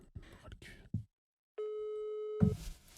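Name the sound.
telephone call tone while dialing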